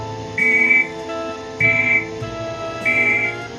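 Three shrill whistle blasts as a fallout warning signal, each a steady high tone lasting under half a second, separated by pauses of about a second over a low background hum.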